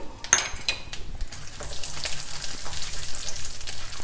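Dals frying in hot oil in a pan make a close, steady sizzle, with a couple of small clinks near the start.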